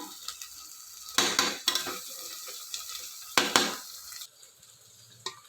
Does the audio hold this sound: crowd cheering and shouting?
no